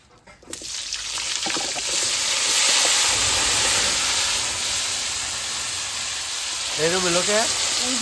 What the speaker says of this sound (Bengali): হয়ে গেছে কপি ফোড়ন দিয়ে দিব